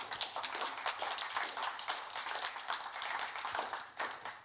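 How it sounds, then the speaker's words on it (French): An audience at a panel discussion on urban mobility in Lausanne applauds to welcome panelists, a steady roomful of clapping with rhythmic surges, moderately loud and continuous, with no talk over it. "sous vos applaudissements"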